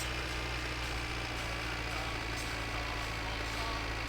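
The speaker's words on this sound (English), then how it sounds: "It's going to be tractor noise for a little bit longer." A tractor engine in the video game My Winter Car, a loud steady droning rumble with a constant low hum, running close and continuous without pause.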